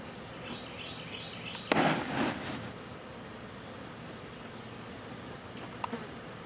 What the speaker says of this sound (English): let's take another peek at the bees.